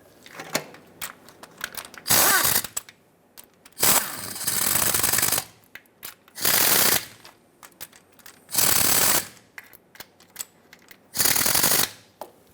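Ratchet tightening the starter bolts on a 2003-2009 Dodge Ram 2500 with a 5.7L V8, heard close up as five or six short bursts of rapid clicking separated by quieter pauses.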